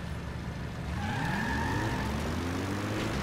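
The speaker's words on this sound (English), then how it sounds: "I could definitely ride Howard over here faster than this truck could go." A truck in the video game Metal Gear Solid V hums along, its engine rising in pitch as it accelerates, with a steady low rumble and a faint whine.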